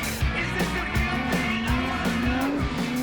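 Drift cars squealing their tires on a race track circuit near Quebec, a continuous loud screech over roaring engines with rhythmic pulsing as they hold throttle through the corners, no talk.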